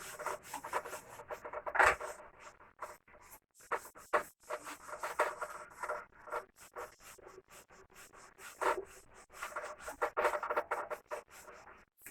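Irregular dry rubbing strokes wipe writing off a board in a lecture setting, scratchy and uneven in rhythm, close but fairly quiet, continuing for several seconds without talk.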